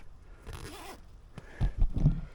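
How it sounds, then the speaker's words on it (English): A zipper is drawn along a mesh panel on a Vango Torridon tent in a few quick, close, rasping pulls with short pauses between, and no talk. "you can just roll that up and toggle it into place, or zip it up"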